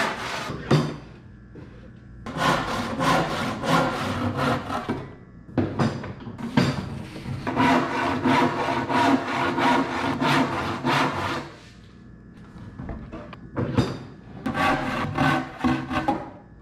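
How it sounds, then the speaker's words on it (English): A handsaw cuts wood boards to rough length in steady rhythmic strokes, close and loud, in several bursts of sawing separated by short pauses. "I cut everything to rough length, using the best pieces of wood for the long sides."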